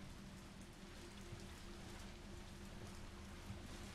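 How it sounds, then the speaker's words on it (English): Steady rain falls outside an open window in the Resident Evil 3 Remake video game, a quiet, continuous hiss of drops pattering on surfaces with no talk. "because you don't want the rain coming in"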